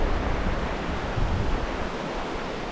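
Rhine river near its source rushes in a steady, broadband roar of cold mountain water, loud and continuous with no voices over it.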